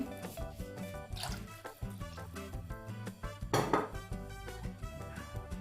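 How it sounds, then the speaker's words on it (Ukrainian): Two glasses of water poured into a pot of tomato-paste gravy in a home kitchen, heard as short splashing, liquid gushes with light clinks of cookware, partly buried under steady background music. "додаю дві склянки води."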